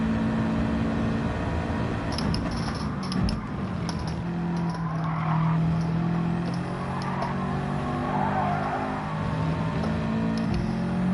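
A race car engine in Gran Turismo 7 revs hard and holds a steady, droning high-rpm whine, loud and continuous throughout with only slight shifts in pitch.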